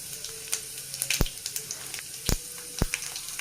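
Mustard seeds and cumin seeds spluttering in hot oil for a Karnataka-style gongura dal, a steady quiet sizzle with sharp pops and crackles scattered through it, three loud bursts standing out.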